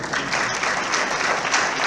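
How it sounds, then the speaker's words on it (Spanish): An audience at a business awards event gives continuous applause, a dense, steady wash of clapping that stays even and fairly loud throughout with no pauses. "Un aplauso a la Luna"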